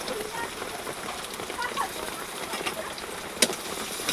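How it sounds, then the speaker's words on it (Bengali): Onions frying in hot oil in a wok give off a soft, continuous rain-like sizzle with scattered light crackles and one sharper pop, heard close and quiet. "পেঁয়াজগুলো দিয়ে দিলাম,"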